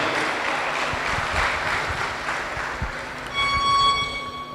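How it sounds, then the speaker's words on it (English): Crowd applause at an international sports week event honoring a women's basketball association, a steady distant wash of clapping with faint tonal ringing joining near the end. "So also a big round of applause for the Women's Basketball Association."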